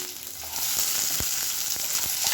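Red chilies, curry leaves and onion sizzle steadily in hot oil for a chutney, a continuous near frying hiss that grows a bit louder partway, with a few soft stirring knocks and no voices.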